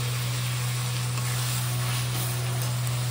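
Onion sizzles and fries steadily in a hot pan for a Bengali-style chicken curry, a close, dense, continuous hiss with a low steady hum underneath and no talking.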